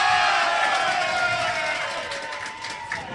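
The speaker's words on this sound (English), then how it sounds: "Crowd getting behind their club members" Spectators at a Sweden versus Czechia international rugby match cheer and shout in a loud, sustained roar, with a few higher whoops and some claps rising and falling through the crowd noise.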